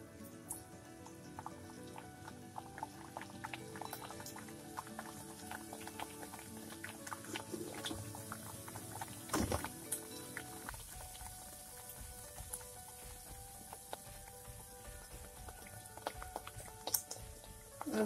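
Kachori dropped into hot oil to deep-fry, giving a continuous crackling, bubbling sizzle with fine popping throughout, close and moderately loud, with one brief louder spatter partway through.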